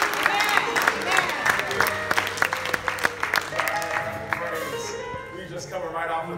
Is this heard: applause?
yes